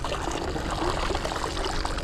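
Water steadily poured and trickling into a bait bucket holding live shrimp on a fishing trip, a continuous faint splashing stream with no talk.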